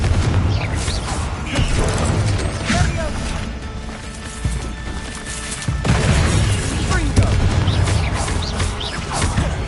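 The Confringo blasting spell in the game Hogwarts Legacy, dense booming explosions and crashing impacts that roll on continuously through the scene, loud and close, with game voices mixed in.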